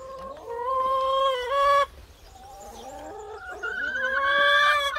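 Hungry chickens on an off-grid farm cluck and squawk loudly for their morning feed, a close, busy flock whose calls overlap continuously with a sharp rooster-like cry rising toward the end.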